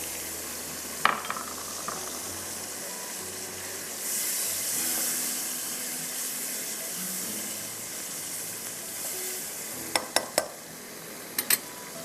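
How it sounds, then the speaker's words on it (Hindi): Raw potatoes are added to fried masala for a vegetable karahi and stirred, giving a continuous sizzle with scraping stirs and a few sharp clunks of the utensil against the pan near the end. "तो पहले आप आलू डालेंगे"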